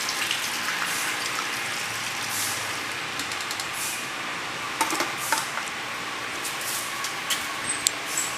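Water poured into old containers to mix with aqua resin for mosquito spraying, a steady splashing and trickling with a few sharp clatters of plastic near the end.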